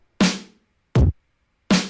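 Drum kit beat from a song verse, launched as a scene in Ableton Live: three sparse, punchy hits spaced about three-quarters of a second apart, a broad kick-and-snare thump alternating with a deep kick, loud and dry with silence between.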